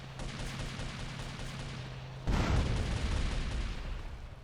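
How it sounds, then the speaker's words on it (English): Gunfire rings out in a GTA video game: a steady hum gives way to a sudden loud burst of shots and booms that keeps rattling on, dense and close, with no talking. "Why is that guy shooting me"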